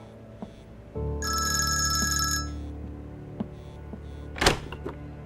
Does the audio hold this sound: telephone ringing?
yes